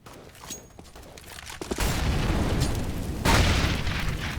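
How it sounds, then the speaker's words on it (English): A grenade goes off in Counter-Strike on the Mirage map during a pro esports match. Faint clicks give way to a booming burst and a sustained loud rumble, then a second heavy blast, all without talk. "Nade. Doing quite a lot of damage onto the Flowmaster."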